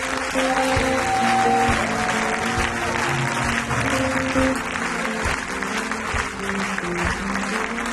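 Church congregation applauding and cheering during a Sunday worship service, a dense steady wash of clapping with crowd voices and some sustained musical tones underneath, continuing for the whole stretch.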